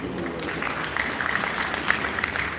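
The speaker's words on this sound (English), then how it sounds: "give ourselves a round of applause" Steady crowd applause from a Lagos audience, a continuous even patter of many hands clapping at moderate loudness throughout.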